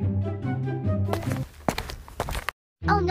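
Footsteps approaching at night inside a home, a short run of soft, irregular thuds and scuffs after a stretch of speech, moderately close, ending in a brief silence before a voice returns.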